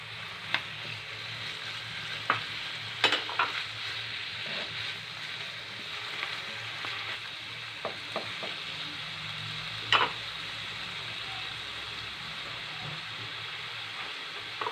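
Chicken and softened onions fry for homemade shawarma, a soft steady sizzle under a low hum, broken by a few stirring clacks and scrapes; no one speaks.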